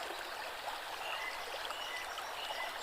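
A forest stream flows in a steady, quiet wash of trickling water, heard alone with no voices.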